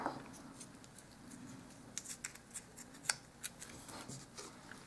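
Scissors snip through material for a dollhouse miniature toolbox, giving a few faint, sparse cuts and ticks close by in a quiet room with no talk.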